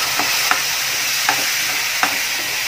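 A spoon stirs a ground onion and tomato mixture in a hot frying pan for chole paneer, with sharp scrapes spaced about every half second over a constant loud sizzle.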